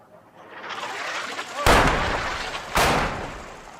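Two powerful explosions from an airstrike on a building in southern Lebanon, each a sudden deep boom with a long rumbling decay, the second following about a second after the first, over a background roar.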